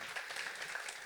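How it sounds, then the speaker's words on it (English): A brief burst of steady audience clapping at an art exhibition event, close and even, lasting about a second with no voices on top. "Let's give a huge round of applause for Gabriella."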